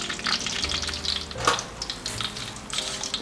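Breaded pork-wrapped cheese rolls deep-fry in hot oil, producing a loud, steady, close bubbling hiss with a brief clatter in the middle and no talking.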